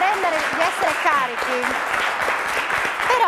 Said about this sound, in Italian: fatemi un buon applauso